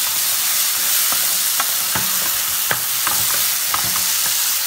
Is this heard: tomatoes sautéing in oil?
yes